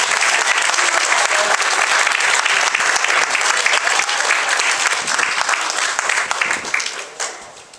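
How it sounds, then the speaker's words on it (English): Sustained applause from a large audience at a public art event honoring city officials, loud and steady throughout before thinning out near the end. "give them all a round of applause"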